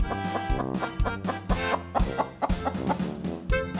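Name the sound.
chicken clucking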